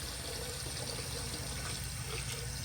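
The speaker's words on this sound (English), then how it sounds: "I'm just gonna take the refill tube out and put it in the tank to let it fill faster." A 1978 Eljer Emblem toilet tank refills with a steady, close, continuous rush of water. The refill tube is placed in the tank, and the flow stays even throughout with no talking.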